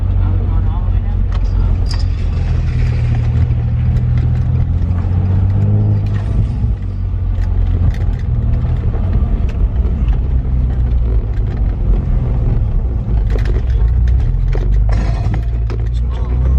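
A Nissan 350Z with a faulty, loud exhaust roars and revs hard on a ride-along, its deep engine drone rising and falling steadily close by while people talk over it.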